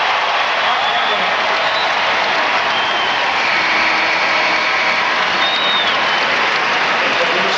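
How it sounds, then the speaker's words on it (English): A sellout crowd at a college basketball game between North Carolina and NC State gives a standing ovation, a dense roar of applause and cheering that fills the arena steadily and loudly from start to finish. "Standing O from the sellout crowd."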